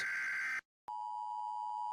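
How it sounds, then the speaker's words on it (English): An emergency broadcast system alert: a harsh, buzzy electronic tone cuts off into a brief silence, then a steady, piercing single-pitched tone sounds loud and continuous. "The emergency broadcast system tone, which sounds like this."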